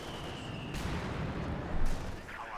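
Mortar barrage in the Company of Heroes 2 strategy game, a steady rumbling wash of distant artillery fire with a louder impact near the end, moderately quiet.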